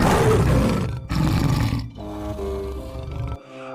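A tiger roars loudly in long, rumbling surges, close and powerful, then trails off into a lower, steadier growl.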